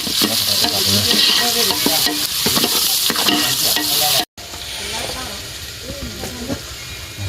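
Food fries in a pan with a loud, hissing sizzle and steady scraping stirring, close by throughout, broken by a brief cut, while voices talk underneath.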